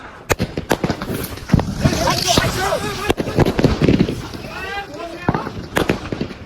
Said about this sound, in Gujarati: બોમ્બ આવ્યો હતો